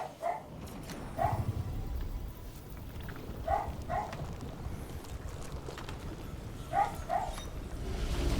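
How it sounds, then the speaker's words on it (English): Dogs barking somewhere off to the side during a session of Dragon Age: The Veilguard, short paired barks recurring a few times at moderate distance over a low steady background hum. "Sorry about the dogs, guys."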